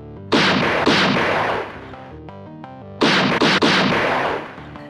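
Gunshot sound effects in a Bengali detective audio drama: loud, close, sharp cracks in two groups, a pair at the start and a quick cluster of three a few seconds later, with a faint musical tone between.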